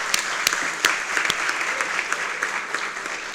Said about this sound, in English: and we're gonna clap for that.